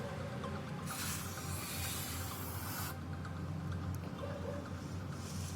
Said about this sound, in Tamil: ஃபஸ்ட்டு ஸ்ப்ரே பண்ணுறேன்.